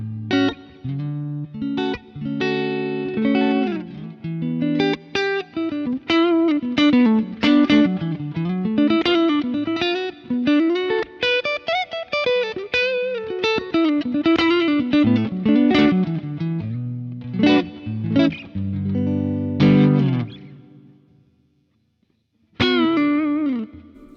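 A bright, crisp distorted electric guitar through a Kemper with treble and presence raised plays a long run of fast melodic lines and chords, loud and up close, ending in a pause and one last hit.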